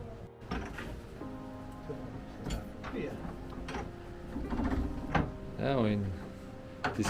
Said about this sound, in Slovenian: Demonstracija tiska z originalnim strojem z partizanske tiskarne.